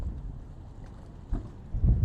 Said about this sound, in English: I'm just trying to survive this wind right here.